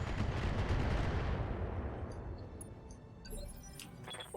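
Heavy gunfire from a trooper mech armed with machine guns and flamers in the Roguetech video game, a loud rumbling burst that fades into decaying echoes, followed by faint clinking game effects.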